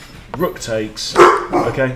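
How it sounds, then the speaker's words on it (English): Dogs bark several times in the room, short yapping barks mixed in with someone talking over a chess game. "sorry about the dogs"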